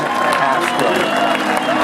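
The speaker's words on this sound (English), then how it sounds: "let's give both of these teams a big round of applause." Crowd of fans applauding and cheering for both the Lakeside Lions and the Lake Washington Kangaroos after a high school baseball game, a steady dense wash of clapping with a voice talking over it.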